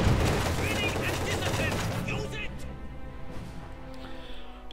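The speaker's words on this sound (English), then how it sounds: "45mm gun opening up" A 45mm anti-tank gun firing in the Company of Heroes 2 strategy game amid dense battle noise, booming shots and crackling gunfire packed together, loud at first and thinning out, with a commentator talking over it.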